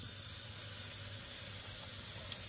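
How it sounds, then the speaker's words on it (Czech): Carrots hiss and sizzle in hot oil in a pot, a faint, steady frying noise throughout with no voices over it. "Olej necháme trošičku zahřát a hned k němu přidáváme mrkvičku"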